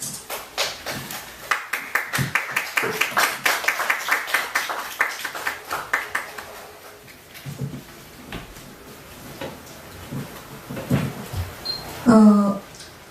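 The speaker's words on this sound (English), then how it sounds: "Please welcome Venerable Dhamma Kitti with a round of applause." Audience applause welcoming a Buddhist monk at a monthly dharma talk, scattered claps from a modest crowd that peak then thin out, followed by quieter rustling and a short bright sound near the end.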